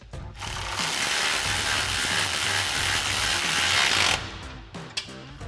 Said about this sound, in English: we can tighten these down using our 11mm socket on our ratchet and our 11mm wrench on the back side